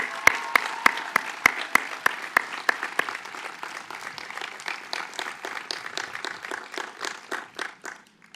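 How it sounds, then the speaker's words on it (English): A graduation ceremony audience applauds, opening with crisp, evenly spaced loud claps that soon spread into a looser, ragged round of many hands clapping, which continues steadily for several seconds. "Can you please give them another round of applause?"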